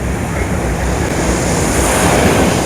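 Waves wash steadily onto a beach at night in a loud, continuous rushing roar with a little wind noise over it and no voices.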